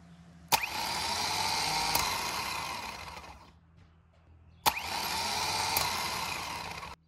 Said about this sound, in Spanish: como podemos ver, ahora sí nuestra marcha ya está trabajando